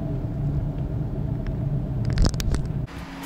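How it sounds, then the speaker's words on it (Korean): A Chevrolet Camaro SS with a tuned aftermarket exhaust rumbles deep and steady under throttle, swelling briefly in a brief burst before dropping off, heard from inside the car while driving in the city. "배기 튜닝을 해놔가지고 상당히 박진감 넘치는 이 악셀을 밟을 때마다 터지는 이 배기 사운드는 상당히 멋집니다"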